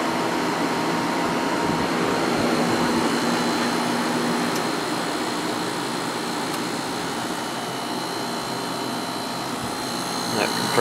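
Sharp 10,500 BTU window air conditioner running after cleaning and oiling, a steady close broadband roar with a tonal hum from the compressor and fan, continuous and even, with occasional talk.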